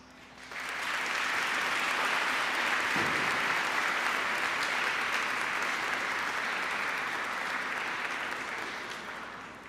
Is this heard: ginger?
no